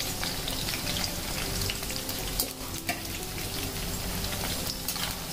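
Eggplant pieces frying in hot oil give off a dense, even crackle that holds steady throughout, with a few sharper pops standing out, heard close with no voices.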